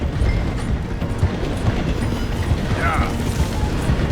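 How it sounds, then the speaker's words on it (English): A steam train slowing as it passes through a station in the video game Red Dead Redemption 2, with steady rumbling wheels, clanking and ratcheting mechanical sounds, and a brief squealing brake tone near the end. "The train slowing down to go through the station."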